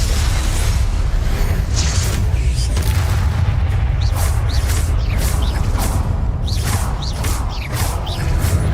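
Fire blast spells cast in Hogwarts Legacy on the hardest difficulty, with repeated whooshing bursts and booms over a dense, loud backdrop of constant combat noise.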